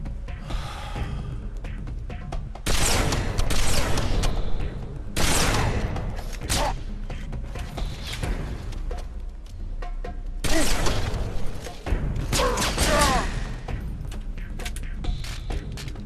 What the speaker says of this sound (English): I would recommend sniping them with the beam rifle.